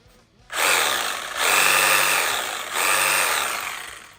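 A cutoff tool fitted with a metal diamond wheel grinds through the metal of an air compressor tank, a loud, harsh, hissing whine that holds steady with two brief dips in intensity after a quiet start.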